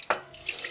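Water pours briefly into a vessel while gouda cheese is being made from sheep's milk, a short close splash followed by a softer trickle, with no talking.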